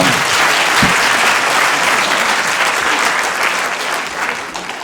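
Studio audience at a Polish television program bursts into applause, dense clapping holding steady and then easing slightly toward the end.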